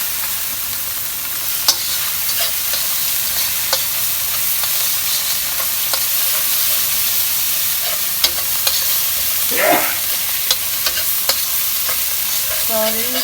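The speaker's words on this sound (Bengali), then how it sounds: "এখন এটাকে একটু কষাবো।" Spiced fish curry with tamarind is sautéed in a pan, giving a loud, continuous sizzle with occasional spatula clicks and scrapes, and no talk over it.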